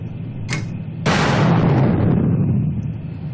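An air-to-air missile launches in Kerbal Space Program: a short pop, then a loud whooshing roar that slowly fades over a few seconds, with no talking.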